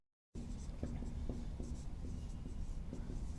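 Chalk or marker writing out a chemistry rate law on a board, a steady scratchy stroking with brief taps, heard close and continuous after a short silent start.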